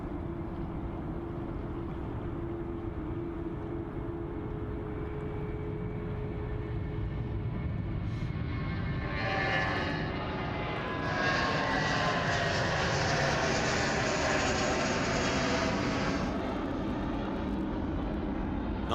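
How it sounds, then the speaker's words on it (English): A Jetstar jet airliner takes off from runway 34 right at Sydney Airport, its engines building from a distant rumble to a swelling, roaring thrust that stays loud and steady before easing slightly. "next to roll now, coming out 3-4 right is Jetstar, and she's rolling"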